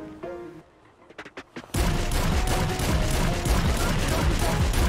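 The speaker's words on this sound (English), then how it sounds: "Okay, we're pulling out the auto shotgun." An auto shotgun firing in GTA 5, a few sharp shots followed by a dense, loud, continuous barrage of gunfire that fills the rest of the clip.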